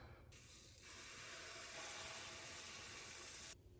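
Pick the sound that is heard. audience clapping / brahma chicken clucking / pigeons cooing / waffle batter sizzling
waffle batter sizzling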